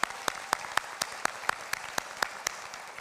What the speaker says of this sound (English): please join me in a round of applause for your loved ones